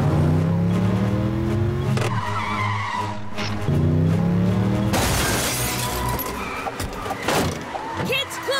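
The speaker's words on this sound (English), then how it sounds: "Richard, stop the car!" A cartoon car brakes hard with tire screeches, skids and a crash of shattering glass, loud and chaotic, mixed with music and overlapping voices.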